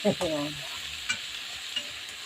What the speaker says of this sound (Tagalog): Gisa-gisa natin ang ating sangkap para sa aking tahong ni Carla.